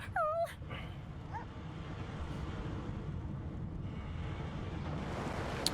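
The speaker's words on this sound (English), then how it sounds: "The dog whines" Dog whining in a video game: a few high, wavering whimpers near the start, then a soft windy, surf-like wash of ambience runs on underneath.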